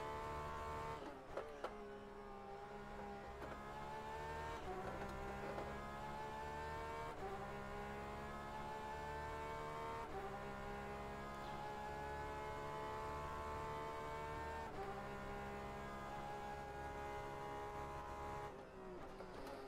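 Porsche 911 RSR race car engine in a racing video game at Sebring, a steady, loud, high-revving drone that holds throughout with several brief stutters and dips in pitch, no voices.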